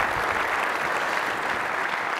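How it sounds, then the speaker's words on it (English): Conference audience applauding for a speaker named Erica, a steady, dense wash of clapping from a sizeable crowd that holds evenly throughout. "Please give Erica a round of applause."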